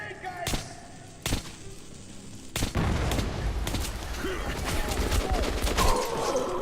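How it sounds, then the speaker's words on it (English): A grenade blast in Metro 2033 Redux follows a few sharp isolated bangs, then a loud burst with rumbling debris and lingering noise, while a voice talks faintly underneath. "I'm throwing a grenade, guys!"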